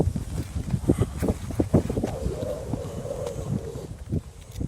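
Wind gusts across an open golf course, buffeting the microphone in uneven bursts with a rough rumble throughout. A faint voice is heard partway through.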